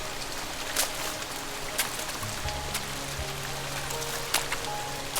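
Steady rain patters on the ground and nearby surfaces outdoors near puddles, a dense continuous hiss with scattered louder droplet ticks and a faint low hum underneath, no voices.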